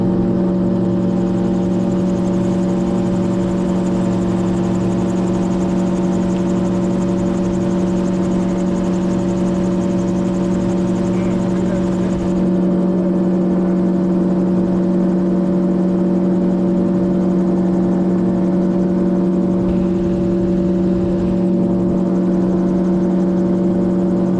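A gyrocopter's engine drones in flight on a gusty day, a loud, steady, close buzzing hum with strong tonal layers that hold constant throughout, with no one talking.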